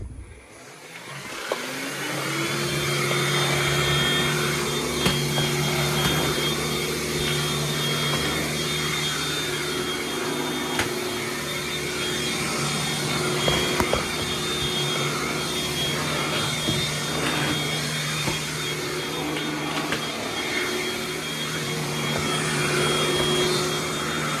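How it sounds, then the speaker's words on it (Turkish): A cordless vacuum cleaner running on turbo mode over parquet floors, a loud steady motor whine with a high pitched hum that holds constant throughout, with occasional faint bumps and no talk. "Turboda bir tık daha hızlı gidiyormuş şarjı."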